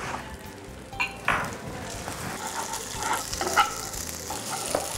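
Linguine noodles dropping into a pan of butter sauce for shrimp scampi, giving a steady low sizzle with a few brief clatters and splashy bursts from the pan up close.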